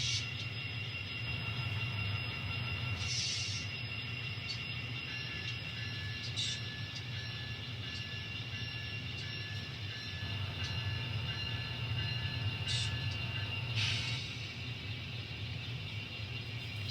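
An N scale model train runs along a layout track with a steady, quiet rolling hum and faint high squeals and ticks from the wheels, heard close with no talking.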